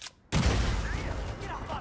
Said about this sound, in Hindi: तो मैंने अपनी गन निकाल दी है, तो मैं इस बग्गी को शूट करता हूँ।